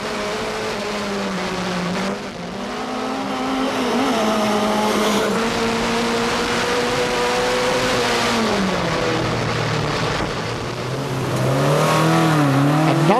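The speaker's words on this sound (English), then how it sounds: "driving his Opel Manta 400 right to the limit" An Opel Manta 400 racing at a hill climb, driven hard, howls through sustained high revs with pitch dips at gear changes and corners, tyres squealing near the end.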